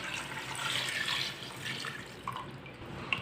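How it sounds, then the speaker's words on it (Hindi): Water is poured into a pot holding beef for namkeen gosht, a close, continuous splashing and trickling that fades toward a few drips at the end. "2 गिलास पानी डाल लेंगे।"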